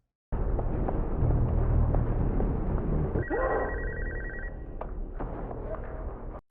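A telephone rings in a tense scene from the 2004 horror film Saw, its repeating bell pattern cutting through loud, rumbling movie sound and music, close and fairly prominent in the middle of the clip.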